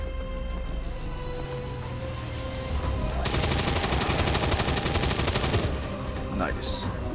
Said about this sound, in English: Might as well take a few shots on our way out.